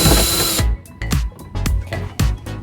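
A 10 mm driver tool removes car door handle screws: a loud burst of whirring gives way to a string of short, sharp mechanical bursts at close range.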